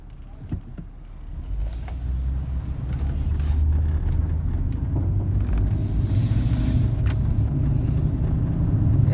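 A car driving, with a low steady engine and road rumble that swells and holds. Wind buffets the microphone, and there are a few faint clicks.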